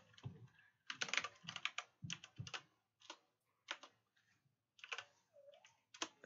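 Computer keyboard typing with irregular bursts of quick clicky keystrokes separated by short pauses, close and fairly quiet, with no voices.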